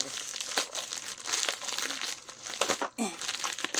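Loud, continuous crinkling and rustling of packaging material being handled and torn open, with a brief voice underneath.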